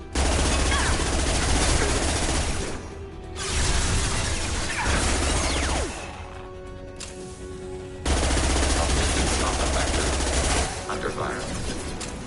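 Loud automatic weapon fire in Mass Effect 2 comes in long bursts broken by short pauses, mixed with whooshes and mechanical game effects, while a synthetic voice speaks over it.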